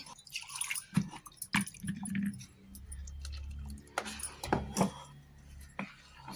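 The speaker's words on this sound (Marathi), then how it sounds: "याच्यात पाणी टाकून आपल्याला मिक्स करायचे" Wet, squishy mixing of water into wheat flour batter, with occasional clinks and drips, close up and moderately loud, with brief bursts of stirring throughout.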